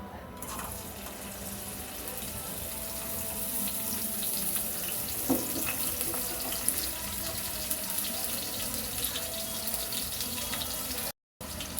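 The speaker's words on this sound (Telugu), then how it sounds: "కలుపుకుందామండి, వేపుకుందాం ఎండ్రోయిలు." Dry prawns fry in four spoons of oil in a pan on a stove, a steady close sizzle and crackle that runs throughout with small pops, with a voice occasionally present.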